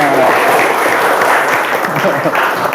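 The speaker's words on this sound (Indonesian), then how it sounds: "Boleh tepuk tangan." A classroom of students claps together in sustained applause, a loud, even patter of many hands that continues throughout.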